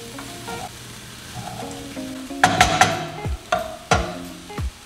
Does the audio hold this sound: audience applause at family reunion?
no